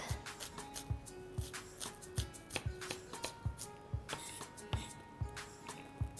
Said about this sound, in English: So I'm going to start by finely chop these shallots